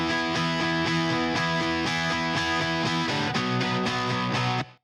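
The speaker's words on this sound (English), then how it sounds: "We've just got some hall reverb happening" Electric guitar run through an amp-sim plugin with a subtle hall reverb, playing a steady rhythmic pattern of sustained chords that ring out and decay at the end, heard alone.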